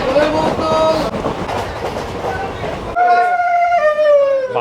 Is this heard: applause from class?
no